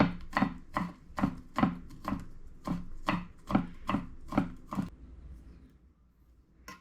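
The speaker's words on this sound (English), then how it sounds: "Just mince it up like this, small." A knife minces ingredients on a cutting board for Vietnamese caramelized braised catfish, about a dozen crisp, evenly spaced chops close up, stopping near the end and leaving a quiet room tone.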